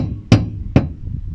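Two sharp metallic clanks about half a second apart, a loose exhaust downpipe with no mounts knocking against a van, close and loud over a low background rumble.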